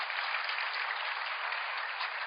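A church congregation applauds in a steady, dense burst of clapping that fills the moment evenly from start to finish.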